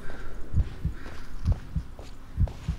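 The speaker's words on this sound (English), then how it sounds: "Why is my heart beating?" Heartbeat in the Blair Witch video game: three slow, deep lub-dub double thumps, evenly spaced and close, over a low ambient hum with no talking.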